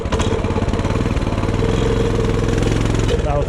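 A small Tractor Supply mini bike engine buzzes and revs loudly up close during a wheelie, a steady mid-pitched drone that holds throughout, with a voice talking over it.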